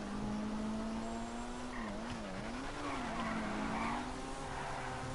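A car engine drones loudly in GTA 5 while tyres skid and squeal, the pitch wavering as the vehicle slides and recovers, holding a continuous roar throughout.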